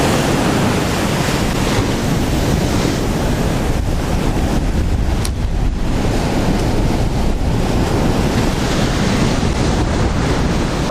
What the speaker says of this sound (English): Wind's really starting to pick up now.